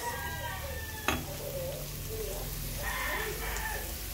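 Onions glazing as they sauté in olive oil for spaghetti, giving a steady, close sizzle throughout, with one sharp clack near the start and some light stirring noises.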